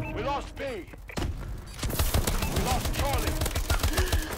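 Gunfire in a Call of Duty: Advanced Warfare gunfight, rapid bursts of automatic shots and thuds, sparse at first then a dense continuous volley, with whistling tonal game sounds mixed in.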